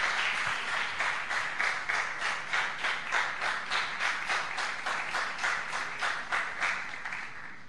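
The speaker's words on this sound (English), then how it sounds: "Big applause for Babas Palace," An awards ceremony audience at a retro game development contest claps in a steady, rhythmic unison, with regular pulses of many hands beating in time for several seconds at moderate loudness.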